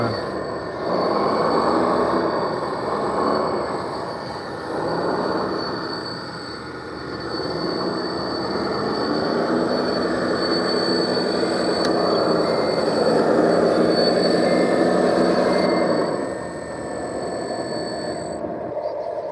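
Steady mechanical drone from a radio-controlled Cat D10 bulldozer fitted with an added sound kit, a loud continuous rumble with a whining high tone that swells and eases slightly over time, without talk.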